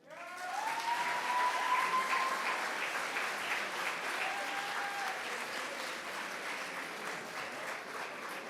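An audience applauds at a school stepping up ceremony, broad sustained clapping that swells quickly and holds steady, with a few faint cheers or whistles riding on top.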